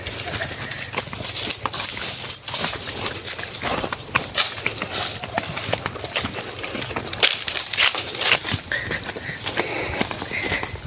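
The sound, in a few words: horse hooves clip-clopping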